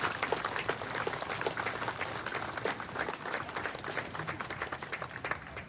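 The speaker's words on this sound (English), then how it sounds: "Let's give a round of applause for those who have lost their lives." A quiet audience gives a round of applause at a Vietnamese community memorial in Kentucky, honoring those who lost their lives; many hands clap in an even, somewhat distant patter that continues steadily throughout.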